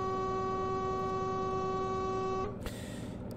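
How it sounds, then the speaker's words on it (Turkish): Truck horn in Truck Simulator Ultimate, one long steady honk with a bright tonal blare that holds for over two seconds before cutting off, leaving quieter road and engine noise beneath. "Mesela diyelim ki korna çaldıracaksın."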